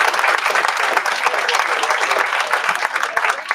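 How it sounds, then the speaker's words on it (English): Sustained applause fills a conference panel event, a dense even patter of many hands clapping at close range with no speech over it, holding steady throughout. "one more great round of applause to all three of our panelists."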